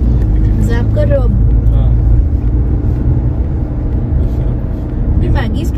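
Low, steady engine rumble from a Mahindra XUV700 SUV climbing a hill road in zoom mode, running smoothly under near continuous conversation from people inside.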